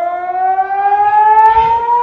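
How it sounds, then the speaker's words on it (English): Loud air-raid sirens wailing during a rocket attack in Israel, one steady rising tone holding alone for about two seconds with a faint low rumble beneath and no voices. "cell phone video capturing the chilling sounds of sirens"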